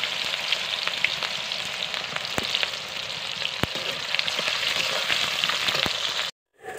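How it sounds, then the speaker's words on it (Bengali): Loud, continuous frying of hot oil in a wok while cooking chicken curry, with dense crackling and occasional sharp pops throughout and no talking. "কড়াইয়ে তেতে গেছে, এখন তেল দিয়ে আমি এবার রান্নাটা করতে থাকি।"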